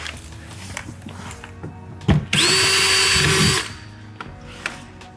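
A rivet tool crimping a long rivet into the center hole of a composite side rocker on a 2020+ C8 Corvette, a sharp click followed by a loud, steady whirring burst of about a second before it stops, with faint clicks around it.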